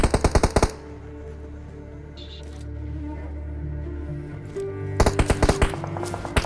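Gunfire in the mobile battle-royale game PUBG Mobile: bursts of rapid automatic shots open the clip, a steady in-game drone follows, then another run of rapid shots sounds near the end.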